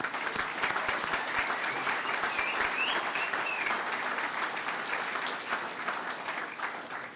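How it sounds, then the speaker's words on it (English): Applause at a Navy rugby alumni hall of fame induction ceremony, with a room of people clapping steadily and evenly before it slowly tapers near the end. "I think they deserve a round of applause for that."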